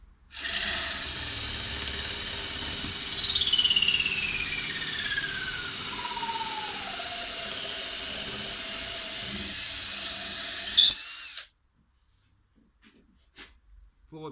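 A steady high-pitched electric drill whine runs for about ten seconds while spinning a wooden rod, its pitch sliding downward, then stops abruptly, leaving near silence.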